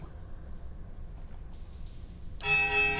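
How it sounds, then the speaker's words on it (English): Temple bell in the Pillars of Eternity video game strikes once after a quiet rumble, a bright ringing tone with sustained harmonics that rings on. "The bell tolls a high, piercing note of startling power."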